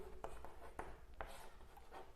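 Pen or chalk writing during a Class 10 trigonometry lesson, with a few faint scratchy strokes recurring every half second or so against quiet room noise.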